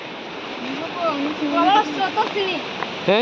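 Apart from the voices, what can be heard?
water rushing at Furli Jharan waterfall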